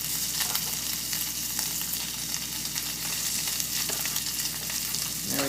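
Trout roe and seasonings fry in a hot pan with a steady, dense sizzle and crackle that holds evenly close-up for the whole stretch, no voices over it.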